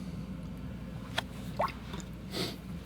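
Faint, brief drips and plops as watercolor paint is splashed onto paper, a few scattered flicks over a quiet room hiss.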